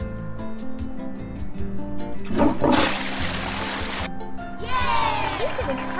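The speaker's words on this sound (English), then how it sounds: "flush the toilet?" A cartoon toilet flush in a virtual baby tiger pet care game: a loud swirling rush of water in the middle, set over steady upbeat game music with chimes before and after.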